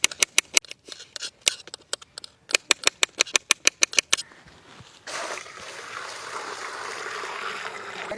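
Fresh curry leaves, garlic and onion for a curry leaf chicken gravy are rinsed in water, first with a run of sharp clicks and knocks, then a steady close splashing and rushing of water with no talking.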